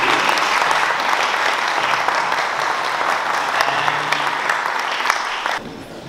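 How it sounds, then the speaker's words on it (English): A crowd at a community candidates forum applauds in a steady, fairly loud wash of clapping that holds evenly, then cuts down abruptly near the end. "can I ask everyone to please join me in a round of applause?"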